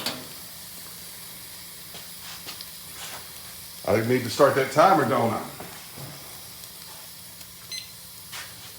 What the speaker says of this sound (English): you can hear it sizzle already.